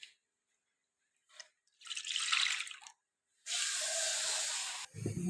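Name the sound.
half a litre of milk poured into a pan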